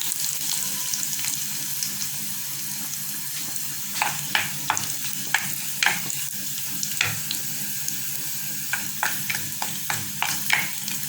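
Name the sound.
dried chilies frying in hot oil with garlic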